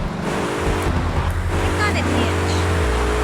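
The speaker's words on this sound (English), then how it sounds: "There are also some changes in the car acceleration sound" Simulated car engine accelerating in a DirectSound3D positional audio demo on Windows, a steady loud low motor drone with rising whine, continuous throughout and panning in space.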